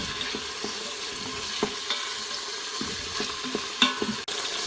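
Ingredients for a crispy fish dish being sautéed in a pan: a soft steady sizzle with scattered stirring clicks and scrapes, close and fairly quiet, no voices.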